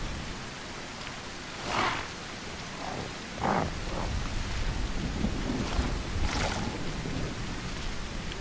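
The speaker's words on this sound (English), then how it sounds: "Here comes the thunder." Video game thunder in The Isle rumbles, swelling and fading a few times over a constant wash of rain noise, distant and low.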